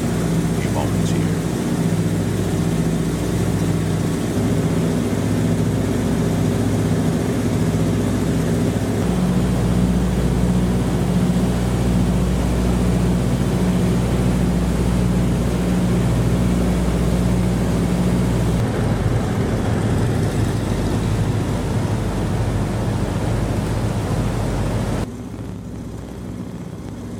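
Loud, steady drone of a 1929 Ford TriMotor's piston engines and propellers inside the cabin during flight, continuous with shifting engine tones, no talking.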